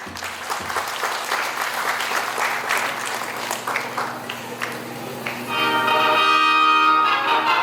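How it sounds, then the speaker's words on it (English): A crowd at an awards ceremony claps in a burst of applause that builds, then gives way to music with a bright tonal instrument toward the end. "Let's give them a big applause."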